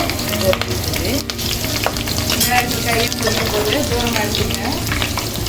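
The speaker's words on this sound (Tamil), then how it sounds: "இப்போ கருவேப்பிலை பட்டையும் போட்டாச்சு." Curry leaves and cinnamon bark fry in hot oil in a pan for mutton gravy, a loud continuous sizzle with crackles and stirring scrapes, close up and without talk.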